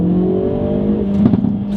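A Hyundai i30N engine holds a steady, humming rev from inside the car, its tone rising slightly with a brief throaty flutter near the end, loud and close with no talk.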